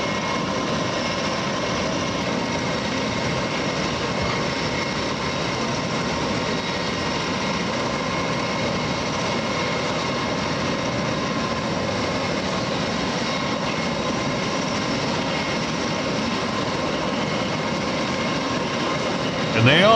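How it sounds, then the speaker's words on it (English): Aircraft pass overhead with a loud, steady engine roar that fills the whole stretch without letting up. A low rumble sits beneath it, and at the very end a short bump can be heard. "Four aircraft so far. No, five aircraft."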